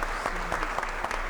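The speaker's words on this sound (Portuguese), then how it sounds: "Por favor, uma salva de palmas." An assembly at a solemn session for a Rio de Janeiro diocese anniversary claps for the priests, a brief burst of crisp, close handclaps with no voices over it.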